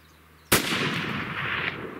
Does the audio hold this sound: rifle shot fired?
yes